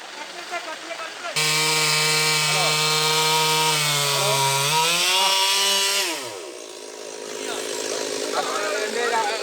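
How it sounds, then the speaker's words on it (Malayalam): A chainsaw cuts through a tree that has fallen across a road in Kerala as fire crews and locals clear it. The engine roars loud and steady, then winds down in pitch as the cut ends, leaving background noise. "മരം മുറിച്ചു മാറ്റുന്ന പ്രവൃത്തികൾ നടന്നുവരുന്നു"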